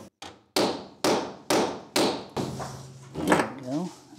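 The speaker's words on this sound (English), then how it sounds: "Hold your ears, because I'm gonna hammer on them a bit." Five sharp metallic hammer blows land at a steady rhythm on old Chevrolet truck cab corners and rocker panels, close and loud, followed by clanking and rattling of loose metal.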